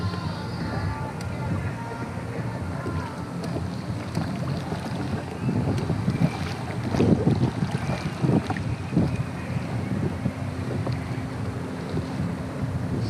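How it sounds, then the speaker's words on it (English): Boat wakes from wakeboarding on a mountain lake slap and slosh against a kayak, a continuous watery churn with wind noise and a few brief knocks. "Check out these waves. These are what the wakeboarders make."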